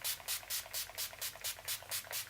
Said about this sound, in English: I'm going to finish it off with the All Nighter Setting Spray.